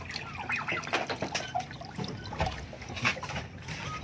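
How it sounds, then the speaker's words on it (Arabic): A birds' water container on a rooftop washed out, with irregular splashing, sloshing and trickling water, close by, with scrapes and knocks of the container mixed in. "هنروح بقى نشوف الميه بتاعتهم، هنغسلها برضو كويس كده"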